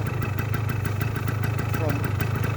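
A 1981 Yamaha DT175 air-cooled enduro motorcycle engine runs steadily nearby with a low, even throb and a rapid pulsing beat throughout, and someone speaks over it.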